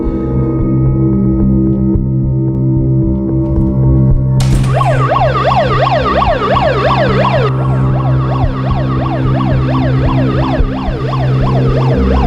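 An ambulance siren starts partway through and wails loudly and steadily in fast rising-and-falling sweeps over a constant low engine hum.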